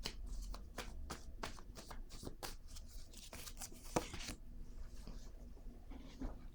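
Cards being shuffled up close for a tarot-style surprise draw, a quick run of crisp riffling flutters and slaps followed by softer handling, quiet and without talk.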